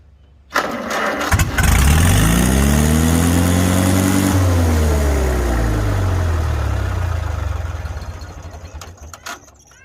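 A 1943 Farmall H tractor engine cranks, catches and roars to life, revving up loud and close, then dropping into a lower steady run that fades slightly toward the end.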